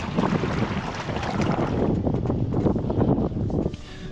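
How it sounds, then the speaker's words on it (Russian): An off-road vehicle with its driveshaft removed fords a river along the Lena in Yakutia, giving a steady loud rush and churn of water and engine with wind buffeting the microphone throughout, easing slightly near the end. "Вот сейчас первое препятствие, форсируем реку."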